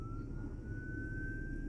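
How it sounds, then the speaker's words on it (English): An ambulance siren wails along a city boulevard, a steady rising tone sounding from a distance above a constant low rumble of street traffic, with no talk. "Either it's ambulances going up to the hospital or ambulances heading up to the bridge"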